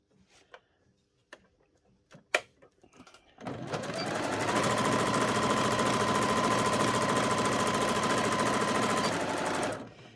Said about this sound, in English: we're just going to sew along here